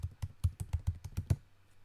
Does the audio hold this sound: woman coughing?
no